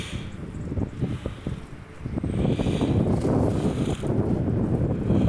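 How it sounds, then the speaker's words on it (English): Wind gusts across an open beach and buffets the microphone with a loud, continuous low roar that strengthens partway through and keeps blowing hard to the end. "the wind picked up a bit"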